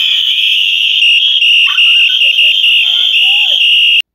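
At a protest outside a French departmental council, a loud, shrill whistle blares almost continuously, with several whistles overlapping in a steady piercing chorus until it cuts off abruptly.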